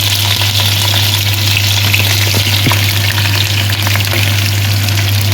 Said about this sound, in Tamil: கொஞ்சம் கருவேப்பிலை எல்லாம் போட்டு நல்லா வதக்கி எடுப்பேன்